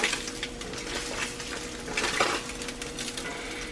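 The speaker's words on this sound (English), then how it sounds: "Spam's cooking up." Spam frying in a cast iron pan on a stovetop makes a continuous crackling sizzle, close and fairly steady, with light scraping and metallic clinks as the pieces are moved around.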